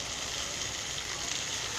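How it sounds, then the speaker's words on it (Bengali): Meat sizzles in a pan after six to seven minutes of frying, giving a steady, even hiss with no pauses and no voices. "প্রায় 6-7 মিনিট হয়ে গেছে আমরা মাংসটাকে ভাজছি"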